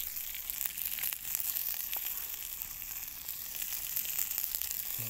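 Peppers and other food cooking over charcoal embers on a marble stone grill, a steady close sizzle and crackle with small pops throughout, and no talking.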